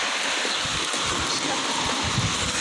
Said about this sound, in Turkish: Nisan yağmurunda durmak çok şifalıdır.